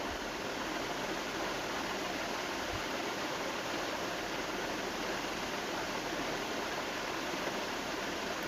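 Homemade design potato wafers deep-frying in a pan of hot oil, a steady dense bubbling hiss that carries on unbroken and fairly loud throughout, with no voices.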